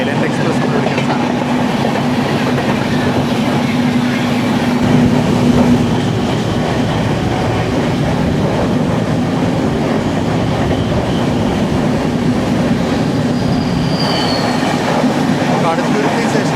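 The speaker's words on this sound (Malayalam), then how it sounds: "KSR Bengaluru Kanyakumari എക്സ്പ്രസ്സും island express എന്ന് വിളിക്കുന്ന സാധനം." The KSR Bengaluru–Kanyakumari Island Express rolls past steadily, heard from aboard another train near Kaduthuruthy station, with a continuous loud rumble, rhythmic wheel clatter and a brief high squeal near the end.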